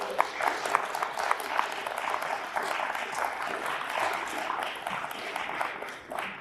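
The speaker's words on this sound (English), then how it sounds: "Can I get one more round of applause for our speakers?" A round of applause from the audience after a Festival of Ideas panel discussion, steady clapping at moderate volume that fills the whole stretch without letup.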